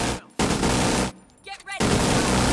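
A minigun in The Division 2 roaring in long, loud, continuous bursts, broken by a short pause where a voice calls out, then the sustained fire resumes.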